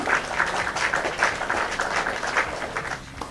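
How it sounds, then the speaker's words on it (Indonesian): Group applause in a classroom as participants clap for each other after a mini-game session, a dense steady patter of many hands lasting the whole moment and tapering slightly at the end. "Mari tepuk tangan untuk kita semua."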